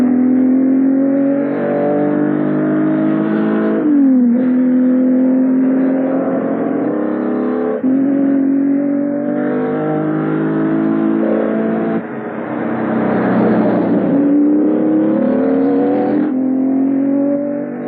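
Ferrari Testarossa with a smooth light-alloy V12 revs hard through repeated climbing runs, each broken by a brief gear-change dip, loud and close with a rich harmonic whine.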